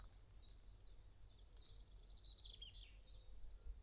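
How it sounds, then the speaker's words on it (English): Faint high chirps and twittering birdsong on Brownsea Island, Dorset, over a low steady background road rumble, distant and quiet. "Birdsong. Just birdsong."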